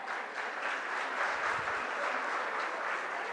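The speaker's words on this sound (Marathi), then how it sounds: "साक्षी आणि तेजस्वीसाठी एकदा जोरदार टाळ्या" Audience applause at a school event for Women's Day, a steady, dense clapping sustained throughout at moderate distance, with no voices over it.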